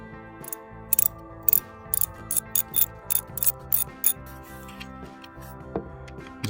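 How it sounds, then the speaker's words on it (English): A T20 Torx screw is backed out of an Audi ignition coil pack, with a series of crisp, close ratcheting clicks in an irregular burst, then a few scattered ticks, over faint background music. "to remove the coil packs, we're going to have to remove these 2 torque screws, and these are T20"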